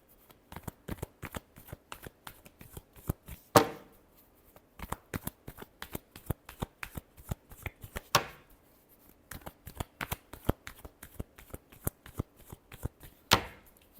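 Tarot cards are shuffled in quick, crisp riffling bursts, with three sharper snaps where the deck is bridged or tapped, close and fairly quiet with no talk.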